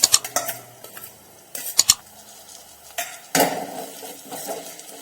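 Two finely chopped medium tomatoes go into a pan of sautéed onion, garlic and chilli: a spoon clatters and scrapes against the pot, then a sudden burst of sizzling swells up and fades, with no talking.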